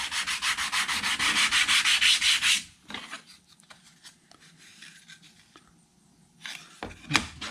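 Rapid, steady back-and-forth strokes of a sanding block scraping a surface, loud and close for a few seconds, then quieter, scattered rubbing.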